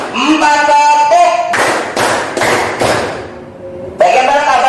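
A group claps in time with a count, four sharp, loud claps in quick succession between stretches of voices, with talking before and after them.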